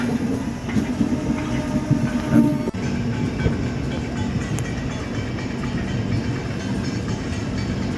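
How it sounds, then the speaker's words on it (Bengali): A train pulling away from Shalimar station in the late afternoon, heard from on board as a loud, continuous rumble with rhythmic clickety-clack over the rails and a brief bump near the middle. "প্রায় ঠিক টাইমেই ট্রেনটা ছাড়লো শালিমার থেকে"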